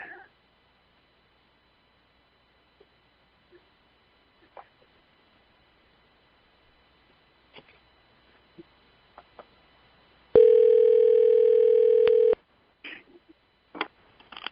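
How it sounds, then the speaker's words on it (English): A steady telephone tone sounds for about two seconds while calling into a radio show, loud and alone against near silence, framed by scattered faint clicks and ticks before and after. "Let's see if we can get Gwen and Frank on the phone"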